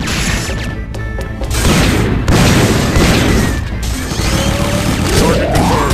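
Dense, loud game audio from Metal Slug 3D with heavy booming blasts and crashing impacts filling the whole clip, consistent with a shotgun firing repeatedly amid ongoing battle noise and no speech.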